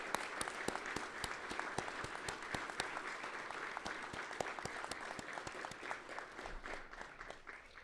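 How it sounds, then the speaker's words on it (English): A civic audience at a city State of the City address claps steadily for several seconds, dense overlapping hand claps heard from a distance at fairly low level. "Let's give them a round of applause."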